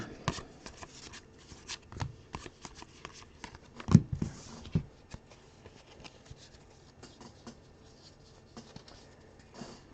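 Trading cards are sorted and stacked on a sorting mat during a break, with scattered soft slaps, shuffles and taps and one sharper knock near the middle, no talk.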